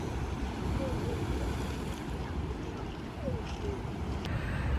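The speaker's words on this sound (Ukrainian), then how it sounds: "Сьогодні хвилі дуже великі" Large sea waves break on a beach at sunset, a continuous rumbling wash of surf mixed with wind buffeting the microphone, steady and fairly loud with no clear separate breaks.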